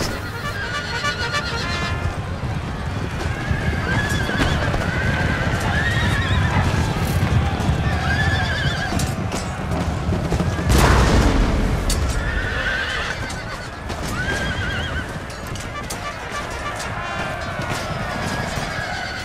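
Cavalry horses in an Empire Total War battle, with repeated loud neighs and whinnies over a continuous clatter of galloping hooves and battle din, plus a heavy rumbling burst partway through.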